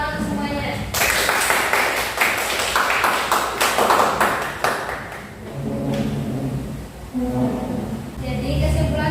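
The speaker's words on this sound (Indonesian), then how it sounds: "Tepuk tangan semuanya." A class of students claps together during a practice teaching lesson. A few seconds of loud, lively group clapping rise up and then fade as talking takes over.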